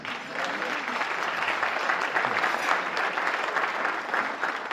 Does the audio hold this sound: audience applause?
yes